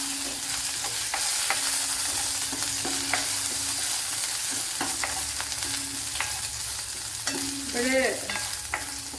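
Mustard seeds, garlic, green chilli and ginger frying in sesame oil in a pan for Kerala-style lime pickle, a steady loud sizzle with scattered sharp pops and crackles, a brief stirring scrape near the end.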